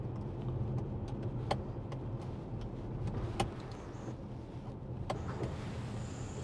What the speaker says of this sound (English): Got a tilt and slide sunroof